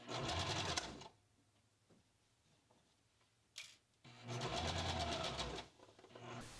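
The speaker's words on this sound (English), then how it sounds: "So I pin it first and just sew a straight line." Sewing machine stitching a straight line on kid's pants, two loud bursts of fast, even needle chatter separated by a quiet pause with faint handling clicks, the second run lasting longer.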